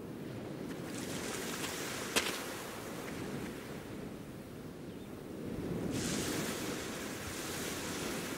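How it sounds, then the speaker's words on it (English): A calm sea in the Secret Files 2 game, with steady soft surf washing over a beach, some wind noise and a brief sharp click partway through. Moderately loud with no voices. "The sea is quite calm again"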